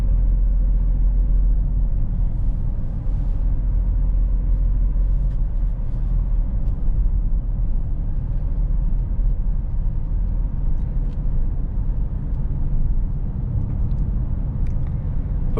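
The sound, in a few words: 2018 Alfa Romeo Stelvio Quadrifoglio driving, engine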